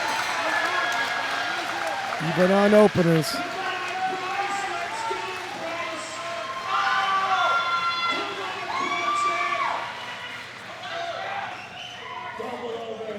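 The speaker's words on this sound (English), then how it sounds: "The crowd is going crazy for him" A crowd at a world classic powerlifting championship in the men's open 105 kg class cheers and shouts for a lifter at the deadlift, with sustained yelling and a sharp burst of noise early on, under a commentator's voice.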